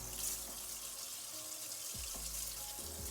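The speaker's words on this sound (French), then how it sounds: "On le rince bien." Rice being rinsed under a running kitchen tap, a steady close hiss of flowing water with a few splashy shifts as the grains are stirred, no talking.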